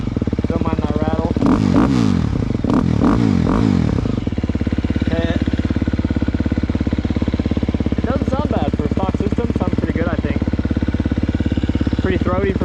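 A KTM 250SX-F four-stroke dirt bike engine idles loudly nearby with a constant throbbing drone and rattle, while people talk over it early on.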